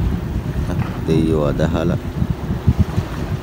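A fishing boat turns at sea, its low engine rumble and wind buffeting running steadily beneath a man's close-up speech.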